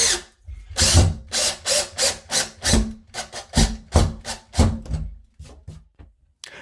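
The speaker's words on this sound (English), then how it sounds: "drill a pilot hole using the 3/16 bit and then screw in the anchor" A power drill with a 3/16 bit bores a pilot hole in a series of short, rhythmic bursts, each a loud grinding whir, close by, ending with a few quieter pulses.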